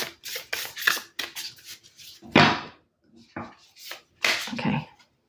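A tarot deck being riffled and bridged in several quick bursts, crisp fluttering snaps separated by short pauses, close up and fairly quiet.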